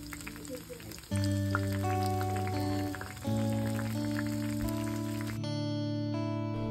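Soybean chunks deep-frying in hot oil in a kadhai crackle and bubble continuously up close, with tonal background music playing over the sizzle and no speech.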